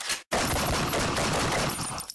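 Gunshot sound effects dropped into a podcast: a dense, sustained burst of rapid gunfire and fusillade, loud and continuous after a brief silent gap at the start, with no talking over it.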